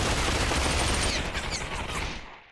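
Sustained rifle fire from the RFB in the VR shooter Population One, a dense, loud burst of rapid shots filling the whole moment before tapering off at the end.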